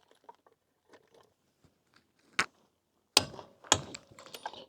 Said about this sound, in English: the torque wrench just does a click when it's up to the right tension or torque